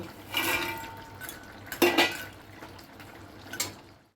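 Moong dal fritters drop into a simmering potato and drumstick curry, a few distinct plops and clinks of pot and utensil spaced over a few seconds, close and moderately loud, no talking.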